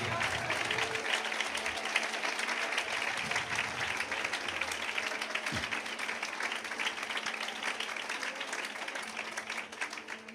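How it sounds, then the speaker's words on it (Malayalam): An audience at a Malayalam Christian gathering applauds steadily, a dense wash of clapping that holds at an even level throughout, heard from a moderate distance. "കൈയടിക്കാതിരിക്കുന്ന എല്ലാവർക്കും വീട്ടിൽ പോകാം."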